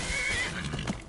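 A horse in the video game Skyrim lets out a short, close neigh with a rising whinny, accompanied by faint hoof clops, lasting about a second.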